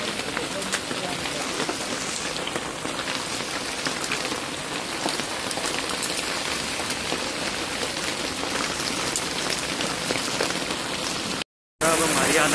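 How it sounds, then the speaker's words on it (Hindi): Hail falls outdoors in a dense, continuous patter of small icy impacts, loud and close, with a brief cut just before the end. "ओले गिर रहे हैं, ओले"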